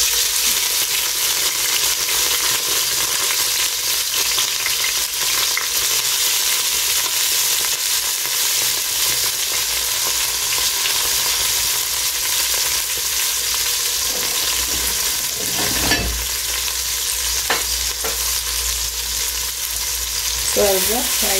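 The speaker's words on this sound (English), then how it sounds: "So I'll just fry them. The spring onion cook really fast" Spring onions fry in heated oil for a Kenyan mukimo dish, giving a steady, loud sizzle throughout with a few scraping stirs near the end; no voices.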